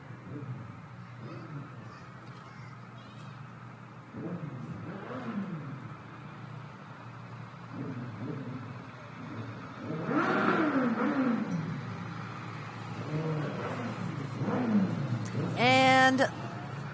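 Motorcycles of the Iron Order Motorcycle Club riding in a Veterans Day parade, engines revving and rising in pitch as they pass, getting louder toward the end, while a voice talks over them.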